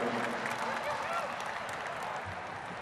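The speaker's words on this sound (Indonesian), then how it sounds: "Tepuk tangan untuk Bu Mega." A large crowd applauds at a political rally concert, a steady distant wash of clapping that holds evenly and fades slightly toward the end.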